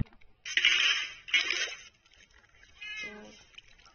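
A Minecraft cat meows twice in quick succession, then gives a softer third meow, close and clear, with a faint electronic quality and a quiet background.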